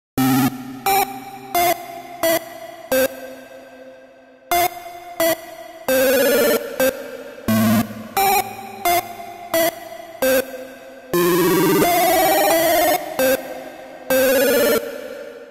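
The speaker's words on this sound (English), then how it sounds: "I started working on the lead sound, and I wanted it to be kind of chip music-y," Bright, bleepy chiptune-style synth lead in the manner of a retro game sound, playing short staccato phrases with pitch-bending arpeggiated runs, loud and alone without any voices.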